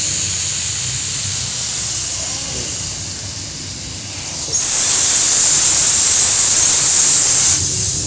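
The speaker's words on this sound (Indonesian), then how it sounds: "Sebelum mulai setrika, kita buang dulu endapan air yang ada di kepala setrika uapnya." A gas-powered steam iron vents its head to purge water deposits: a quiet hissy room tone, then a loud sustained rush of steam for about three seconds before cutting off.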